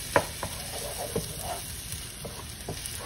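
Onion and garlic fry in a pan with a soft, steady sizzle broken by a few sharp stirring clicks and scrapes, close by and quiet, with no voices.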